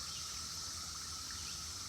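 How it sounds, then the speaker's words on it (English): Periodical 17-year cicadas chorus as a steady, continuous high buzzing drone outdoors after rain, constant in level throughout with no talk. "Can you hear the 17-year cicadas?"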